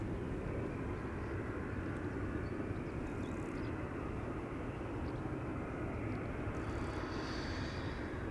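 A KLM Boeing 737-800 jet at Schiphol's Polderbaan runway gives a continuous low, broad engine roar, steady and moderately distant throughout, with no talking.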